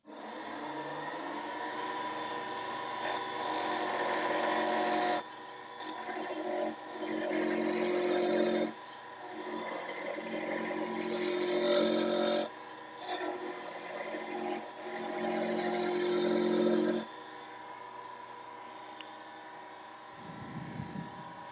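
A skew chisel cuts wood spinning on a lathe, producing loud rasping, scraping strokes in long bursts broken by short pauses, close up with no talking.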